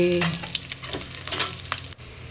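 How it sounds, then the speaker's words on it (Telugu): Green chillies, curry leaves and garlic frying in oil for gongura pachadi, a close bubbling sizzle with stirring scrapes and spits, alone without speech. "పచ్చిమిరపకాయలు, కరివేపాకు, ఎల్లుల్లిపాయలు వేసి కొద్దిగా వేగనిచ్చి"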